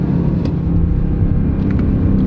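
BMW M8 Competition, the 2020 model, pulling hard in second gear, a steady loud engine rumble and roar that holds close and constant throughout without any voices.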